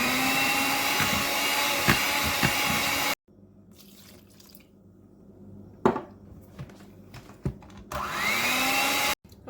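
An electric mixer whirs loudly, beating dry ingredients and milk into batter for an Irish apple and cream cheese cake. It runs for a few seconds, pauses amid quieter kitchen clatter, then starts up again.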